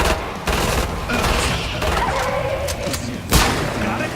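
Rapid bursts of gunfire from the video game Killing Floor 2, loud and close, with sharp shots and fusillades running throughout and a heavier blast near the end.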